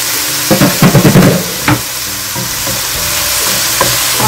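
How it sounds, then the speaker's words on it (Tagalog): Corn goes into a hot pan of frying filling for stuffed bell peppers, with a burst of clattering utensil knocks and scrapes from stirring, then a steady loud sizzle that continues on its own. "idagdag ko na rin yung corn"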